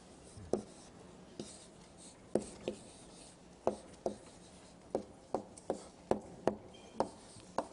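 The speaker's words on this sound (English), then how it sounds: "So I'll write that out." Pen or marker strokes tap and scratch in short, irregular bursts as an organic chemistry equation about imines is written out by hand, close but fairly faint, with no talking.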